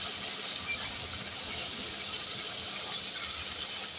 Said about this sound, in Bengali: অল্প একটু বাটিটা দিয়ে জল দিয়ে দিলাম।